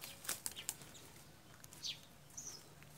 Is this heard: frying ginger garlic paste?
no